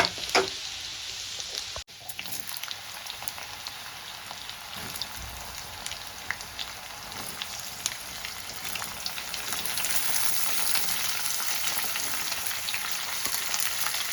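Vegetables and chopped garlic sizzle in hot oil in a pan, a loud, constant crackling hiss broken by one brief stir at the start, growing slightly stronger toward the end, with no voices.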